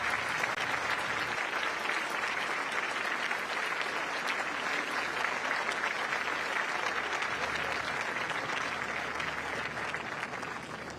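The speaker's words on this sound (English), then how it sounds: "arriving to a round of applause from the audience." An audience on an outdoor lawn applauds as Singapore's outgoing prime minister arrives for the swearing-in of the new prime minister, steady crowd clapping that carries on at an even level and tapers slightly at the end.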